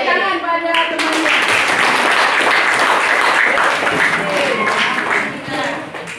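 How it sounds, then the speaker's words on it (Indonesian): Students in an Indonesian language classroom applaud a classmate, a dense, steady round of clapping with mixed voices and a brief tone at the start, fading slightly at the end. "Tepuk tangan pada temannya"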